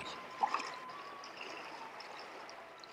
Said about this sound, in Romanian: e liniște și n-auzi decât șuietul Oltului